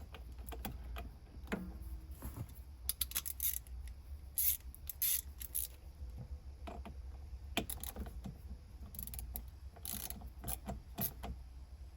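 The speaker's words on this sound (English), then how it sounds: "as you tighten down the set screw" A set screw is tightened on an INEOS Grenadier gear shifter during a Supra shifter swap, giving faint intermittent mechanical clicks and ratcheting ticks over a steady low hum.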